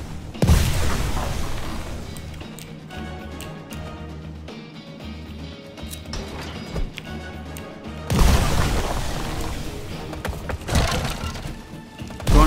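An explosion in a tank war simulator video game, a grenade blast, booms loudly at the start and again around the middle, with tonal in-game music and rumbling filling the stretch between the two hits.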